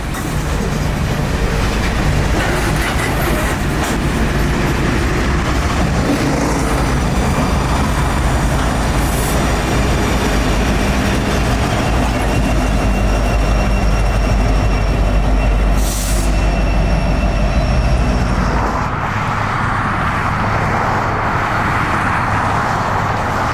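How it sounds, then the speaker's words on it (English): A long freight unit train on the S-Line pulls out of a siding onto the main line, wheels rumbling and clattering loudly with occasional squeals, continuous and close, the sound thinning near the end. "pull the entire train out of the siding onto the main"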